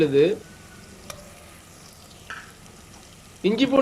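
Ginger garlic paste sizzles and fries in a pan for pressure-cooker chicken biryani, a soft steady hiss between brief bursts of speech at the start and end.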